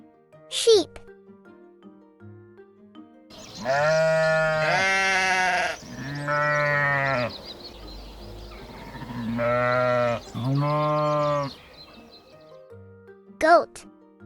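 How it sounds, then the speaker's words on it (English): A farm sheep bleats in several long, loud, wavering calls separated by short pauses, close and clear, with brief clicks at the start and end. "sheep."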